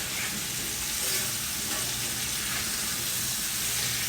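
Pork country ribs searing in a pan for a crispy crust, giving a loud, dense, continuous sizzle and spatter up close.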